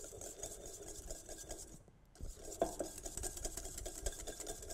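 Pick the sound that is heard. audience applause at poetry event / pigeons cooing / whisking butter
whisking butter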